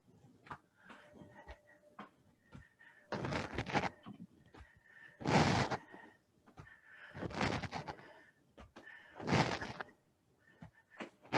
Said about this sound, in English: let's take the hands into loose fists and begin to knock on the lower belly and lower back